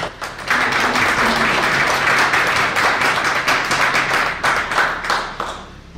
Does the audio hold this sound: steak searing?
no